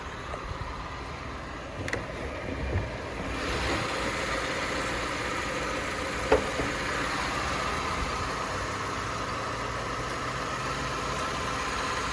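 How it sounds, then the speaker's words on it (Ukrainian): Steady low hum of a Hyundai Tucson engine running at idle, close by, with a faint click partway through and no voices. "Робота двигуна."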